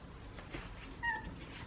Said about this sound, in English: since I've brought Grable here, she's been meowing more.